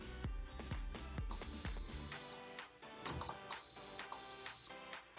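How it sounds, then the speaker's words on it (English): A Pi-Top simple doorbell buzzer gives several shrill, high-pitched electronic tones in separate bursts, loud and close, after some light clicks and handling sounds. "right here I have a simple doorbell. Just be aware that this has high frequencies"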